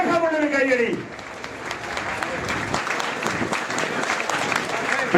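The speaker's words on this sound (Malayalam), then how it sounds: "പ്രിയപ്പെട്ടവർ എല്ലാവരും നല്ല കയ്യടി കൊടുക്കുക. ആവേശമുള്ളൊരു കയ്യടി," A crowd at a boat race flag-off ceremony applauds with dense, sustained clapping lasting several seconds, following a loud voice over a public address system at the start.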